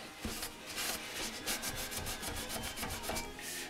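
Abrasive stripping of rust and old paint from the metal of a Honda NS 250 motorcycle under restoration, a steady close scrubbing rasp with rhythmic strokes and no talk.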